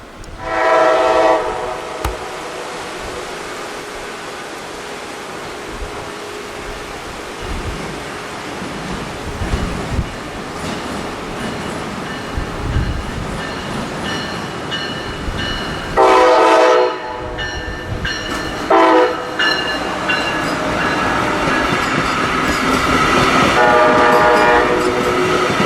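FEC freight train rolling past near a drawbridge, close rumbling and clattering wheels with several loud blasts of the horn, the last held long as the train keeps passing.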